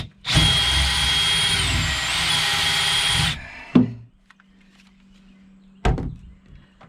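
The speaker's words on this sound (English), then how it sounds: "I'll drill a hole right through here." An electric drill bores a hole through a container to fit an aerator into a bait live well. The motor whines loudly for about three seconds, stops, then two sharp knocks follow.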